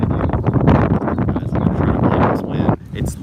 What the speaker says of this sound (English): it's literally never windy here, and of course, as soon as I set the video up to film, it's like there's a fucking tornado